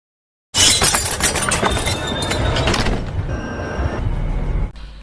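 Glass shatters in a Thai horror film, a sudden loud crash after silence followed by a sustained, dense spray of breaking and tinkling shards that fades into lingering clinks and rumble.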